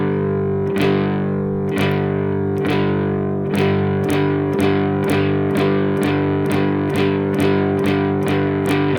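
Distorted electric guitar power chords struck with fast, even all-downstroke strums, about a dozen loud chord hits ringing through effects with no talking.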